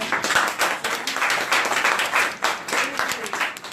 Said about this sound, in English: I think an applause for the speaker